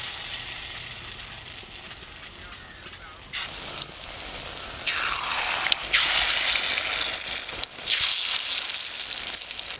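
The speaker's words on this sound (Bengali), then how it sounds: "সেম ভাবে আমি এই বড়াটাও ভেজে নেব।" Egg and eggplant fritters sizzle in hot oil in a home kitchen, a steady soft crackle that grows louder and busier as more batter goes into the pan, with a few sharp spits.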